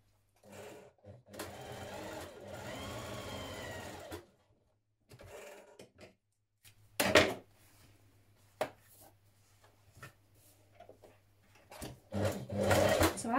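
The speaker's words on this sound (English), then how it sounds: "I found it was best to sew a little, push so much through, and then turn it to the inside and carry on." A sewing machine stitches a Kielo wrap dress in short bursts. Steady close whirring runs alternate with pauses, fabric handling and a few sharp clacks, and the stitching resumes loudly at the end.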